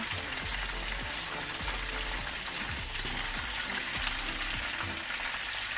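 A fish tail piece frying in a pan, steady dense sizzling with small popping crackles throughout, close and fairly loud with no talk over it.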